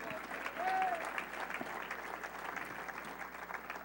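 Steady applause from a church congregation, with a voice briefly rising above the clapping before it settles into a continuous patter.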